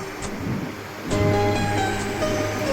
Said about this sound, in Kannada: ತುಂಬ ಅಲೆ ಬರ್ತಾ ಇದೆ